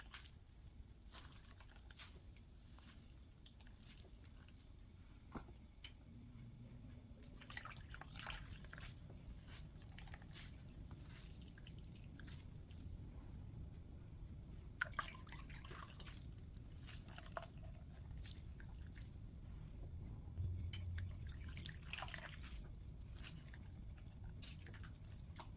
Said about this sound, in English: Squeeze out the excess water.